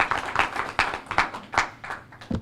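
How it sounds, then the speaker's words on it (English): A handful of sharp, separate hand claps, about seven in a loose, uneven rhythm, from a small audience greeting council officers at a parent advisory meeting; fairly close and moderately loud, with no talking. "Let's give them a round of applause."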